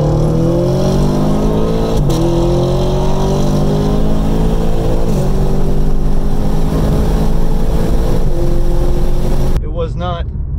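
A 2020 BMW M340i xDrive races a 2016 Camaro SS, with loud, sustained engine roar and rising harmonic revs interrupted by brief shift dips, continuing steadily near the listener until the sound cuts off abruptly near the end, followed by a short voice.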